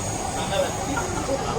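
A metro train rumbles steadily below, a close, continuous low roar with faint wheel squeal, while people talk over it.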